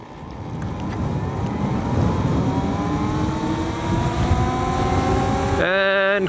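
An Altis Sigma electric scooter speeding up downhill in normal mode: a steady motor whine climbing in pitch under heavy wind rush, loud and continuous, ending with an abrupt tonal beep-like sound.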